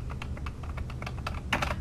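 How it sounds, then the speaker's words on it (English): Fingers type on a computer keyboard while a form field is filled in, producing quick, irregular key clicks close up with a denser burst near the end, steady and fairly quiet with no talking. "I need to be careful about typing this in so it's exactly as I created it"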